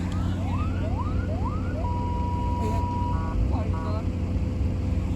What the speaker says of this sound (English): Who's got a siren? Is it that recovery truck?